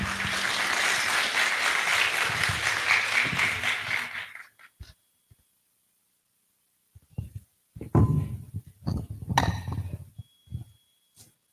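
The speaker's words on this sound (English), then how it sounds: "please give your applause." Audience applause at a Python conference keynote in a main hall, dense and steady for about four seconds before cutting off, followed by scattered thumps, shuffling and brief voices.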